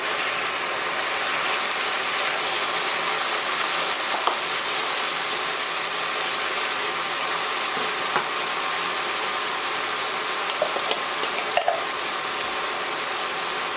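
Tomato, pepper and garlic sizzle steadily in a pan for Liberian gravy, a dense continuous frying hiss with a few faint clicks and no talking.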